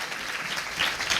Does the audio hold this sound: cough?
no